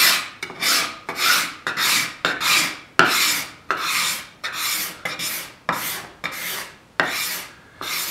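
A cabinet scraper is drawn over the wood of a guitar body in about a dozen long, rasping strokes, each one a close, loud, hissing scrape, repeated in a steady rhythm with short pauses in between.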